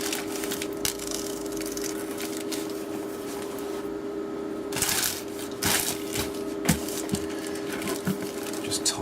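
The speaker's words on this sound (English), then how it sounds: "This bit here is against the grain, so I'm going to cut it." Scissors snip through appliqué fabric for a badge, cutting against the grain, giving a run of short crisp cuts and rustles, up close, over a steady hum.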